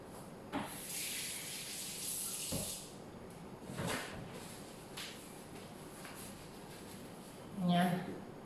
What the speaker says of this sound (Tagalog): maghuhugas ako ng kamay